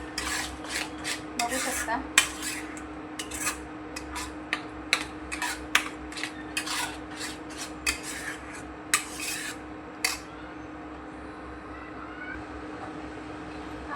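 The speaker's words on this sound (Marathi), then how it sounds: "सारखा हलवत राहायचंय त्याला" A spoon scrapes and clatters around a pan of raw mango jelly in quick, repeated strokes that stop near the end. A steady hum sits underneath, and a voice speaks briefly.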